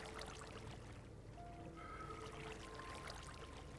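Soft ambient flowing water in a Minecraft modpack cave, a steady low wash and trickle that runs without pause at a faint level, with no voices.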